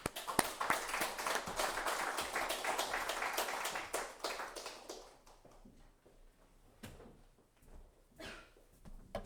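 A church congregation claps to welcome the pastor at a Wednesday worship service, with moderate applause for about five seconds that thins into a few sparse claps and taps before fading out.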